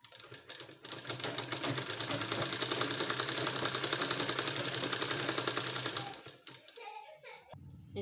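A sewing machine runs in one long, steady burst of rapid stitching, joining a 1.5-inch two-colour fabric strip onto palazzo pants, then stops near the end, leaving a few quiet handling sounds.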